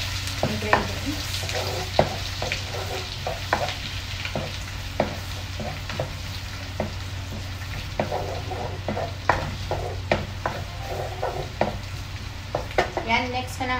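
Chicken with ginger being stir-fried in a pan: steady sizzling under repeated scraping and stirring strokes of a utensil, fairly close, with no talk.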